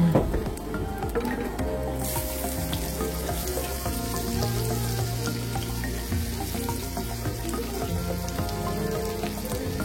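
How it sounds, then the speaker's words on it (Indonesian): Shallots and garlic sautéing in a hot pan make a dense, continuous sizzle like hard rain. It swells noticeably after the first couple of seconds and holds loud and steady to the end, close up with no voices. "Kemudian saya mau menumis bawang merah dan bawang putihnya."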